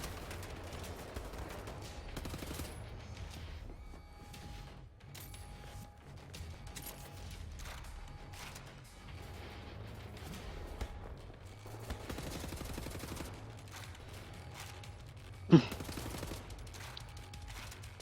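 Rapid bursts of automatic gunfire in the shooter Wolfenstein: The New Order recur across a long stretch of combat, some sustained and some clipped, with one loud sharp shot standing out near the end.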